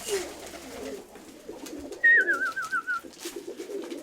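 A young pigeon gives a short warbling coo over faint background rustle and low murmuring, close by.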